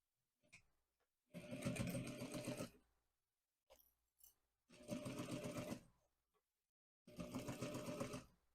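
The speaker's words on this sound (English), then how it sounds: "So now I'm going to flip it over and sew down this one." A sewing machine stitches a seam on a fabric pencil pouch in three steady whirring runs of about two seconds each, close and clear, separated by short quiet pauses.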